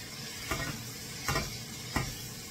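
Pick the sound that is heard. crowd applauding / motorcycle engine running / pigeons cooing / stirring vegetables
stirring vegetables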